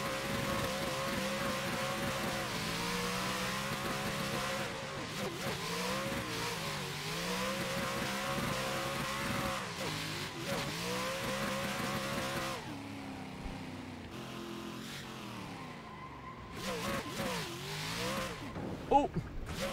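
A car engine in a drifting racing game, revving and rising and falling continuously with shifting pitch and occasional tire squeal, steady and fairly loud throughout.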